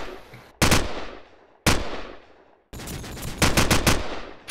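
Gunfire in the video game Call of Duty 4 ProMod: loud bursts of automatic rifle fire, each rapid volley cutting off abruptly, the last a longer stuttering burst.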